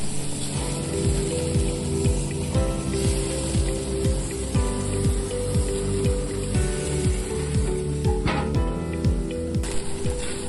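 Burgers and buns cook together on a gas grill, with buns on the top rack. A loud, steady, hissing sizzle runs throughout, close up, with faint rhythmic ticking and a brief brighter crackle near the end.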